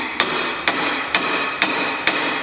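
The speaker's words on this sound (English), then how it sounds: "This is one time you want to use a pretty good sized punch and hammer. And you actually just kind of want to tap this down." Hammer striking a large punch to tap the exhaust off the cylinder of a Vespa P125 engine during teardown, five sharp metallic blows at an even, unhurried rhythm, close and loud.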